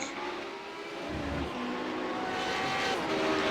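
A race car engine drones steadily nearby during a race at Road Atlanta, its pitch shifting slightly as it swells louder, like a car passing at moderate distance.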